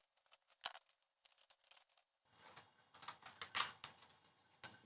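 Scissors snipping through pink paper pieces for a preschool sheep craft, a run of close, crisp cuts with brief pauses, then a busier stretch of quick snips and paper rustling.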